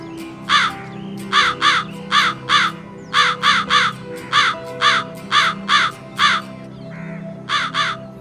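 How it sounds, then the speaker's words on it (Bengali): A crow caws repeatedly in loud, evenly spaced harsh calls, often in pairs, over a low background hum. "তখন কাকটা নিজের পায়ে রুটিটা চেপে ধরে বেসুরা আওয়াজে গাইতে লাগলো"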